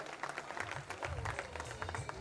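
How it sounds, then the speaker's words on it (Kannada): Brief, fairly faint applause from a school reunion audience honouring former teachers, a short patter of claps under background murmur. "ಚಪ್ಪಾಳೆ"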